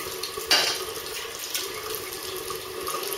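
Tap water running over a double-edge safety razor during a wet shave, a steady close splash with one brief louder gush, no talking.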